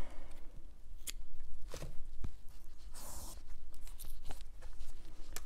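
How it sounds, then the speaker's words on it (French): Scissors snip through crochet yarn after a round of stitches is closed with a slip stitch, giving a few close, crisp cuts spread over several seconds with light handling rustle between them. "Là on va couper."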